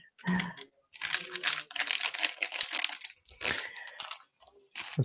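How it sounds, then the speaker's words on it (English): Small plastic building pieces from an A-Wing polybag set click and clatter against a tabletop in quick, close, fairly loud bursts with brief pauses between them. "And you're gonna hear clicking on the table."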